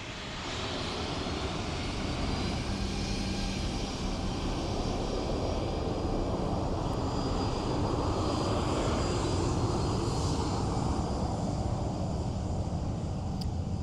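A British Airways airliner descends below 3,000 feet on approach to Dublin Airport, giving a steady distant engine roar that swells slightly and then holds at a constant level.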